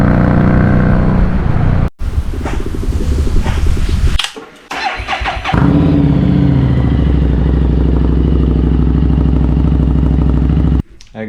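A Harley-Davidson Street 500 motorcycle fitted with an aftermarket exhaust starts up loud and close, sputters through a few revs and brief cutouts, then settles into a deep steady rumbling idle.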